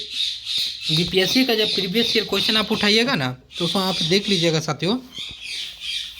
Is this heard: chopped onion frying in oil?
no